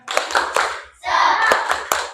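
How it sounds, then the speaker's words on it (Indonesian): Fourth-grade children in a classroom perform the tepuk semangat rhythmic clap, sharp, loud and close, in two quick bursts of patterned hand claps separated by a brief pause. "Kita tepuk-tepuk dulu ya."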